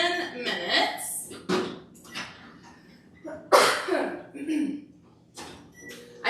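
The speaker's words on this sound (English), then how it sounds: "I think every time I go live, something causes me to cough." A woman coughs several times in sharp, close bursts in a home kitchen, with short pauses between the coughs and some clatter nearby.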